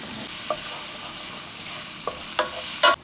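Diced onion frying in oil in a skillet, giving a steady even sizzle throughout, with a few sharp spatula clicks and scrapes near the end.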